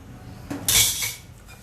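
Dishes and cutlery clink briefly while a Thai dish of pla ra bong stir-fried with egg is plated, a single close ceramic clatter lasting under a second against quiet kitchen background.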